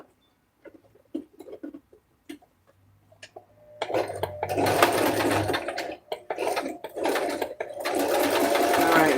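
A sewing machine runs in a dense, steady whir through the second half, sewing egg-shaped pieces, after a stretch of scattered clicks and handling noises at the start.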